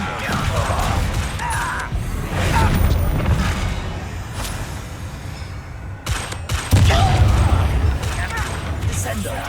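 Descendo spell combat in the video game Hogwarts Legacy, with loud crashing magical blasts, booms and impacts in rapid bursts. Shouted spell calls and talk are mixed in with the fighting.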